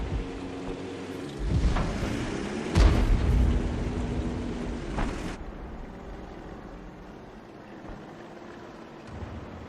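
An SU-8 self-propelled artillery gun firing in the tank game Ace Tanker, with two loud, booming blasts close together early on and rumbling decay afterward, alone without talk.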